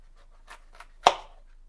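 A few soft knife strokes, then one sharper cut as a blade slices through eggplant and taps the board, quiet and close with silence between.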